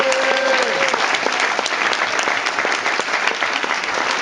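Loud, dense applause from the crowd at a French political meeting, continuous clapping with a brief cheer near the start, holding steady throughout.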